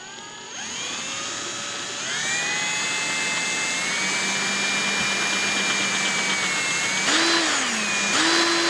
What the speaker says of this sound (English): let's see if we've drilled out a good enough hole again